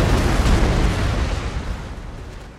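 Howitzers and cannons fire in the video game Empire Total War, with dense overlapping booms and rumbling blasts that are loud at first and then slowly fade.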